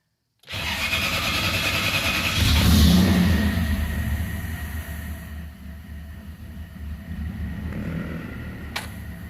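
A Toyota 1UZ V8 swapped into a Nissan 240SX cranks and fires up, revs briefly, then settles into a steady close idle with a sharp click near the end; no talking.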